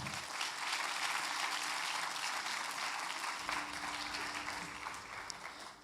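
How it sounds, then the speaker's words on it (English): Audience applause at a Bharatanatyam arangetram dance debut, a steady wash of clapping from a seated crowd, fairly faint and continuous, tapering slightly at the end. "let's give this young lady another round of applause"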